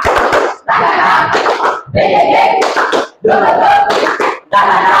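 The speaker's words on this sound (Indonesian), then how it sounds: "Tepuk semangat" A classroom group performs a rhythmic spirit clap together, several short bursts of unison clapping and chanted voices separated by brief pauses, loud and close.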